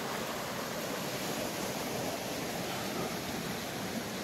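A mountain stream flows and cascades beneath a moss-covered concrete bridge on the Goechala trek between Yuksom and Sachen, giving a steady, even rush of water with no talk.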